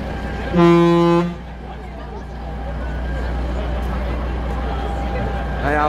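Car horns honking from a wedding convoy, one loud sustained blast up front followed by fainter toots later, with street traffic rumbling underneath and people talking.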